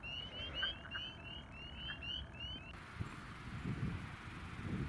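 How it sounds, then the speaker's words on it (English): Spring peepers and wood frogs calling in a chorus of short repeated chirping peeps, moderately distant, over a low outdoor rumble and some wind noise. "I did hear loads of spring peepers and some wood frogs."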